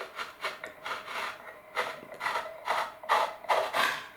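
Rhythmic scraping of a hand tool twisting into balsa wood, boring a hole, about eight rasping strokes in a steady back-and-forth pattern, close by and fairly quiet.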